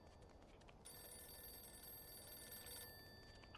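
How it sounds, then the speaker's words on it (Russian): A telephone rings in a Mafia II video game scene, a quiet, steady electronic bell tone that starts partway through and holds for about two seconds over faint room hiss. "Aa, zəng gəlir."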